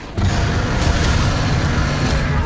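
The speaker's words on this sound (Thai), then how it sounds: "โอ้นี่ไงระเบิด" A deep booming explosion goes off in Monster Hunter World: Iceborne during a Barroth hunt, kicking in abruptly and then rumbling on loud and sustained to the end.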